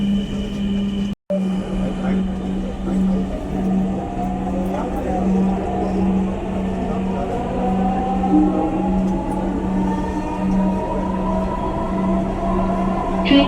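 A Dhaka metro rail train at a station, with a steady hum and rising motor whine, interrupted by a brief break early on.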